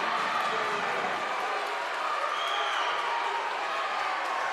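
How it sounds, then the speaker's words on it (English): Hendersonville fans at a varsity basketball game against Franklin cheering and clapping in a large gym, a continuous roar of crowd noise with a commentator's voice over it. "The Hendersonville fans are cheering."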